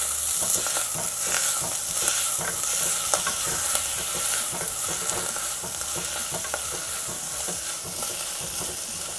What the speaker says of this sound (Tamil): இப்போ இதையும் வந்து நம்ம நல்லா வதக்கிடலாம்.